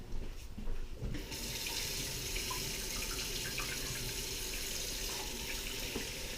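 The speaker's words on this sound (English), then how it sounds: "Next step, get some hot water" Hot water runs steadily from a tap into a sink, a continuous hissing gush after a brief start, close by.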